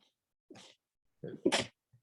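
A single sharp sneeze bursts out close by after a brief breathy intake, followed by quiet.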